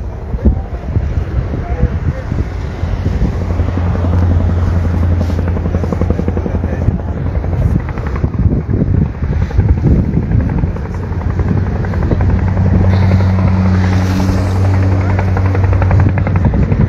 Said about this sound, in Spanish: Vamos a estar en la espera de los helicópteros.